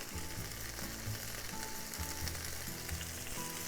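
Chicken pieces and lotus root sauté in a hot pan with steady, close sizzling and a few soft stirring scrapes, no voices present.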